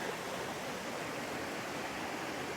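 A river flows at a bend beside a backcountry trail in Georgia, a steady, even rush of water with no pauses, moderately loud and unbroken.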